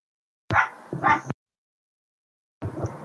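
A dog barks twice in quick succession, close and clear, then falls silent before another bark-like burst starts near the end.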